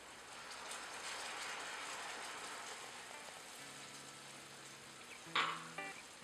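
Alcoholic sauce hits a hot pan and sizzles in a steady, hissing wash of frying noise, moderately quiet and continuous, with a short sharper burst of spattering and a faint tonal clink near the end.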